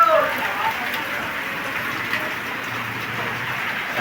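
Heavy rain pours down steadily in Narail as a continuous broadband hiss, close and unbroken, with a faint voice murmuring briefly underneath.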